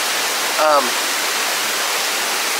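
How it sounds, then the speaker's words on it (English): A rushing creek at a campground in Cherokee, North Carolina gives a steady, close wash of water noise throughout, with a brief voice near the start. "so you can hear that rushing creek behind us"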